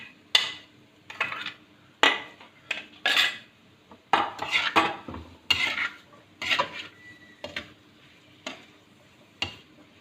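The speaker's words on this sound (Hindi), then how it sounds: "बस 2 मिनट इसको अच्छी तरीके से हम भूनेंगे।" Spaghetti ingredients being stirred in a pan, with repeated sharp clinks and scrapes of a utensil against metal in an irregular rhythm, close and fairly quiet, with no talking.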